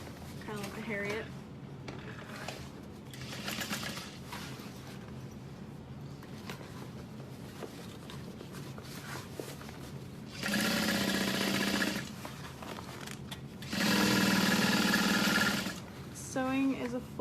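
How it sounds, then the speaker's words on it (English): A sewing machine stitches a modified barrel bag in two loud, steady runs of rapid mechanical whirring, close by, with a person talking over the quieter stretches before and between them. "Sewing is a full body experience."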